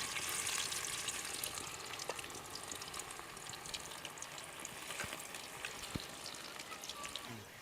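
Okra pakodi, battered bendakaya fritters, sizzle and bubble steadily in hot oil in a home kitchen, a continuous close, soft frying hiss with occasional pops and faint stirring.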